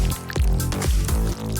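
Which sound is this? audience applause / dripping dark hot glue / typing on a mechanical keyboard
dripping dark hot glue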